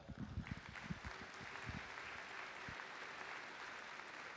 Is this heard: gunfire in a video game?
no